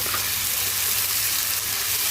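Cumin paste rinsed in with water hits a hot frying pan and sets off a loud, continuous close-up sizzle that stays steady throughout.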